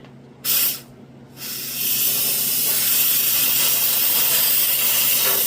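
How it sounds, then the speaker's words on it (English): A steady, loud hiss of steam pours out of an inexpensive Harbor Freight steam cleaner after a couple of short bursts, continuing as a broad, constant rush close by. "I got this steamer thing going"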